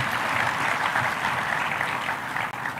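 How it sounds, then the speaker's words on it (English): A school crowd claps for a student speaker at a high school event in Nairobi, producing a dense, continuous patter of applause that stays loud throughout the short stretch. "Please clap for that boy."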